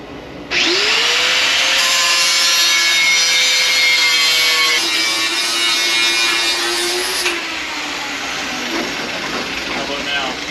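A grinder cutting a capsulated nut off a C1 Chevelle, spinning up and screeching loudly for several seconds with a pitch drop midway, then winding down under background shop noise.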